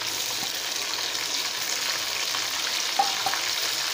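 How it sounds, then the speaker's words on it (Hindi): A ground paste of ginger, garlic, onion and chili goes into onions frying in a pan, giving a steady loud sizzle with soft stirring scrapes and a couple of small pops near the end. "इसमें अदरक है, प्याज है, लहसुन है, 2 मिर्चा है, पीस लिए हैं, एक पेस्ट बना लिए हैं, अब डाल रहे हैं"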